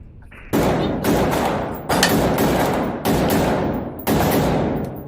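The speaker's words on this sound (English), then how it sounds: "It's only a 7-inch barrel, super short, It's an AR pistol." A short AR pistol with a 7-inch barrel firing outdoors, four loud sharp reports spaced about a second apart, each with a long rolling echo that decays before the next shot, no talking.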